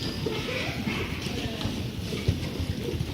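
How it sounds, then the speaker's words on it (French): A pony warming up at a trot in a riding session gives out soft rhythmic clip-clopping hooves on footing, fairly close, over a steady background hiss. "Donc là pour l'instant c'est la détente au trot."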